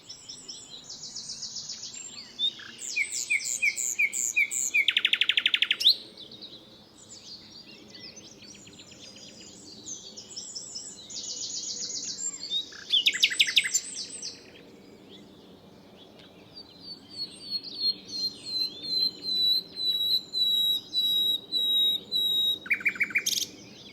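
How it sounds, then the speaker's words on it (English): Dartford Warbler singing on a heathland common, Thursley Common in Surrey: repeated bursts of scratchy, rapid high chattering phrases, loud and close, separated by short pauses, with other bird calls faintly in the background. "So Dartford Warbler. Dartford Warbler. Iconic."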